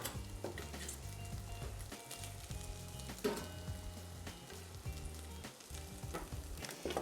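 Sliced jalapeno rings hit a hot pan and sizzle steadily, a dense crackling fry with occasional stirring clinks, close and fairly loud throughout with no talking.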